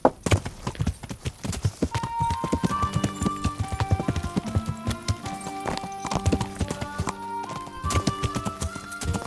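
Horse hooves gallop in the medieval video game Kingdom Come: Deliverance, a quick steady clip-clop rhythm close up, with game music tones running underneath.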